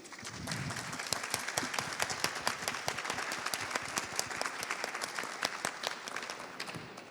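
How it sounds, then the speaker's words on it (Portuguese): A live audience at a literary talk event breaks into steady, dense applause, many hands clapping together at an even level for the whole stretch without letting up. "pedir para todo mundo uma salva de palmas para Conceição Evaristo"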